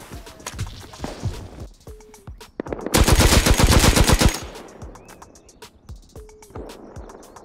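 Sporadic gunshots in the survival game Rust give way to a loud, sustained burst of rapid automatic fire from a turret, followed by more scattered single shots and clicks.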